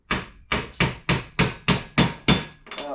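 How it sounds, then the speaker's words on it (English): Seven sharp metallic ball peen hammer blows knocking out a bearing ring out at a steady rhythm, close and loud, each strike decaying briefly before the next. "Trusty #1 ball peen hammer"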